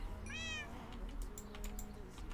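A cat meows once in the Minecraft video game, a short rising-falling game meow near the start over a low hum and faint clicking.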